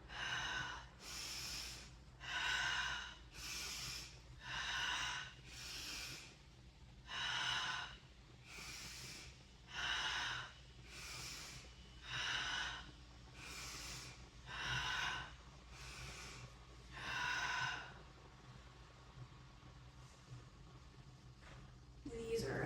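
Rhythmic breathing during seated Sufi grind stretches, a slow alternation of audible inhales and exhales repeating about a dozen times at an even pace, close and moderately loud over a quiet room.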